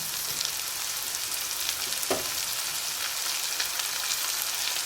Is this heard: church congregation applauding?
no